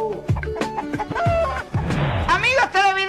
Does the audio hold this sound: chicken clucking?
yes